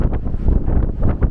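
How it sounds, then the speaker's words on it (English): Strong gusting wind at Pali Lookout on Oahu buffets the microphone with loud, rumbling low roars that surge and ease in quick waves, with no voices. "the lookout itself, is notoriously known for its windy conditions"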